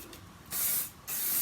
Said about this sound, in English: Bit of spray.